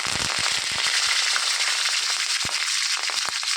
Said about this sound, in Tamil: ஆயில் சூடானோடனே கொஞ்சம் கடுகு கொஞ்சம் சோம்பு